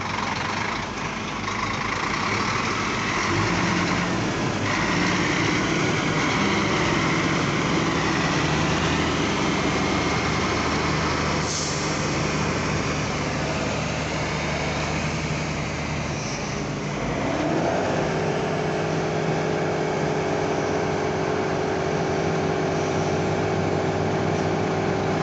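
A C355 turbo tractor engine idles with a continuous, loud, rumbling drone. The tone holds steady, then shifts pitch and settles into a smoother hum partway through. No voices are heard.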